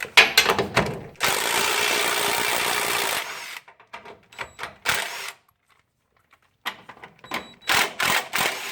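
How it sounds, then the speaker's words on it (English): A ratchet works 18 mm bolts out of a Ford Super Duty V10 4R100 transmission, giving bursts of rapid clicking pawl ratcheting separated by short pauses and softer handling noises. "we're going to take these 2 bolts out and this nail plate. These are 18 millimeter."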